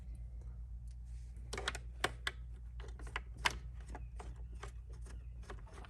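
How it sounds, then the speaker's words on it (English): Small screws are backed out of a Roomba 692 robot vacuum during a teardown, giving irregular close, sharp clicks and ticks over a steady low electrical hum. "there are a bunch of screws that you're going to have to take off with it"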